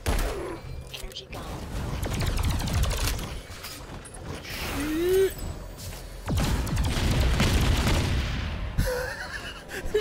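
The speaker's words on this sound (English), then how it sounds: "see the massive explosions?" Massive explosions and gunfire in the PS4 shooter Alienation, with a tanker blown up, crash into loud booming bursts and rumbling debris across the clip, while a player talks and laughs over the action.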